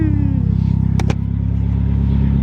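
A Nissan Silvia S14 engine fitted with a dump pipe rumbles loud and close with a deep pulsing idle and a brief rev, punctuated by two sharp clattering bursts.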